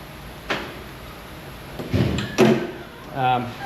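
A custom hot rod's locked door with hidden handles gives a few short clunks and rattles as someone tries it, mixed with someone talking nearby.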